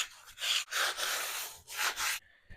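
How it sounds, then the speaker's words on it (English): Repeated scratchy sanding strokes on wood, close up, in several long passes with brief pauses between them. "Now we just got to start sanding this down."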